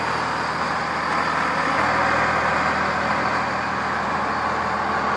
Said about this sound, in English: There's a fire truck.